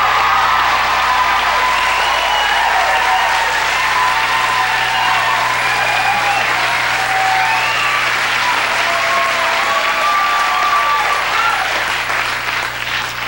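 Studio audience applause on a 1985 late-night television show welcoming Phil Collins, steady and loud throughout with dense clapping and some cheering.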